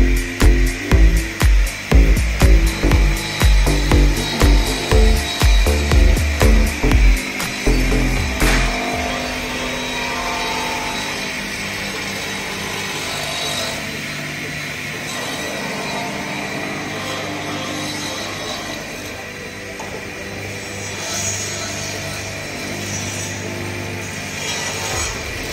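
A Fuvico four-sided cutting machine for finger-jointed wood panels runs with its two saw blades spinning, opening with a rapid series of loud rhythmic thumps before settling into a steady mechanical whir and hum.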